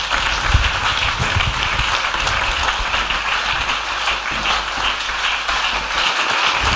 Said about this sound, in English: I hope you'll be able to clap like that.